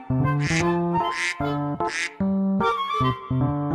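A duck gives several loud, raspy quacks in separate bursts, about three distinct calls spaced through the stretch, over continuous background music.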